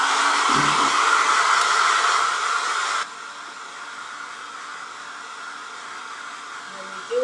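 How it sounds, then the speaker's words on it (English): Handheld blow dryer drying a decoupage craft piece, a loud steady airy whoosh for about three seconds, then dropping to a quieter, lower setting or moving away, with a brief bump at the end. "I am going to go ahead and hit this with a blow dryer."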